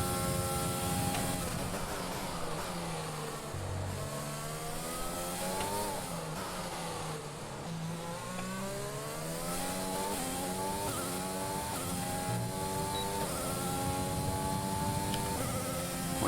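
A Formula One car in the F1 2020 racing game lapping Silverstone, its high-pitched engine climbing and falling through the gears as it accelerates and brakes, loud and steady with no talk.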